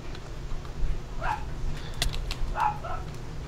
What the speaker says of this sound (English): Fucking dog, shut the fuck up, bro.